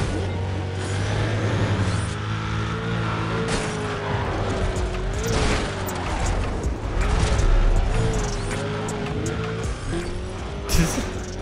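Dodge Charger and rival cars racing in a street-racing video game, with steady engine drone and gear-shift pitch sweeps under occasional bursts of tire and brake noise, continuous and fairly loud.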